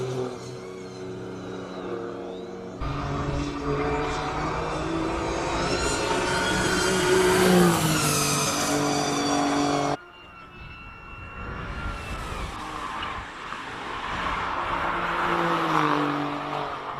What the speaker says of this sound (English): A few more Porsches making their way up the hill.